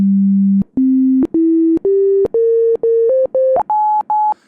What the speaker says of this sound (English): So these are all just sine waves we just heard.